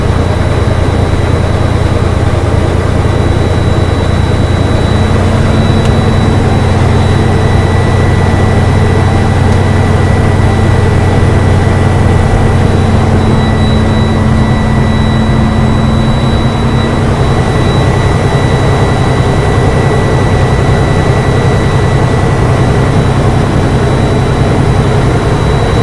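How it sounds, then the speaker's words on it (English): A truck engine revs with a loud, steady roar held constant for the whole stretch, a droning whine layered on top and no breaks. "So what I'm gonna do is rev up the engine."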